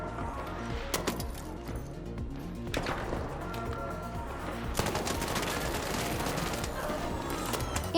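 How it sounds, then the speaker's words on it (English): Rapid bursts of gunfire in the video game Arc Raiders, shooting while sliding, with dense overlapping shots and impacts over a steady loud game mix, no talk. "You can shoot while sliding to catch an enemy running away or repositioning."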